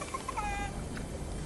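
A chicken clucks in a few short, quick bursts close by, over a steady background murmur with no talking.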